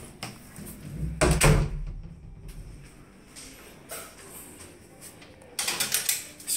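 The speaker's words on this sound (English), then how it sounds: "Screen door" A rental house screen door opening onto a patio, with a clattering rattle and thump early on, then softer handling noises and another burst of rattling near the end, close and without talk.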